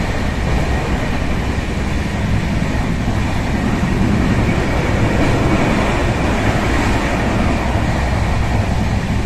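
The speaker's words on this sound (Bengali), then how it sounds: "আমাদের ট্রেন খুব জোর চলেছে।" The Rupasi Bangla Express passenger train runs at speed, a loud, steady roar of wheels and carriage rumble heard from inside without a break.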